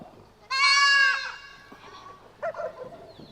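A goat gives one loud, close, nasal bleat, followed by quieter bleats and faint background sounds at a livestock homestead in Kotido, Karamoja.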